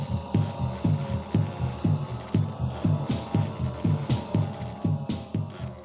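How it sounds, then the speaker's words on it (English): Deep wing beats of giant wasps throb in a steady, rapid pulsing rhythm, a loud low droning hum that repeats without pause. "Deep wing beats echo through the trees like tiny helicopters approaching somewhere ahead"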